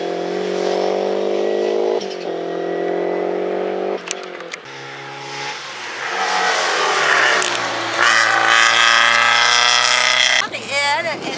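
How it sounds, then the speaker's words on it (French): Racing engines scream and rise in pitch as cars accelerate and pass one after another at a slalom event on the Circuit du Luc, loud and continuous with voices talking underneath. "noter les voitures qui partent parce que je les entends"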